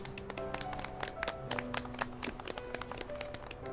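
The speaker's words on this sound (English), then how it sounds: "Clap. Golf clap." Quiet golf clapping, a rapid light patter of soft hand claps over faint background music.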